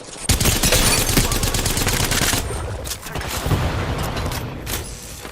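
Video game gunfire rattles in rapid automatic bursts, loud and close at first and then sparser, with booming shots and mechanical clicks mixed in.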